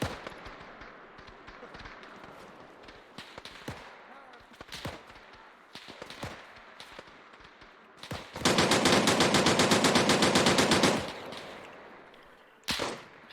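Machine gun fire in a war video game set at the Battle of Raate Road: scattered single shots and short bursts give way to a long, loud, rapid sustained volley, then a final short burst.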